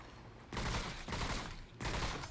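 Rapid gunfire from the video game Remnant: From The Ashes, two loud sustained bursts of shots packed close together, filling the clip with dense crackling reports.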